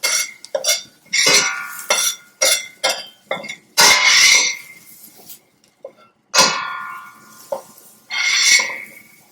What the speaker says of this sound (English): And then we'll just mix it to combine.